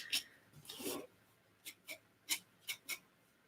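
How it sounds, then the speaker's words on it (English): Scraping tool dragged across an art journal page: a couple of longer rasping strokes early on, then several short, crisp scrapes in a steady series, close and fairly quiet. "I like to kind of scrape it down a little bit"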